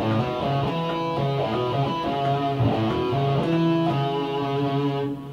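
Electric guitar plays the first bridge of a song, a run of picked notes in a steady rhythm over a backing track, close and moderately loud, fading slightly at the end.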